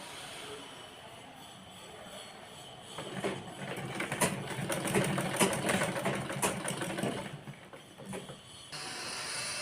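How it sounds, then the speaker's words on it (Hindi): A sewing machine stitches piping along the edge of a netted blouse. The mechanical whir is close and steady and swells louder through the middle, then eases off, with no talk over it. "और उस पर बिल्कुल किनारे किनारे पे सिलाई लगा लेंगे, पाइपिंग के ऊपर सिलाई नहीं लगानी है।"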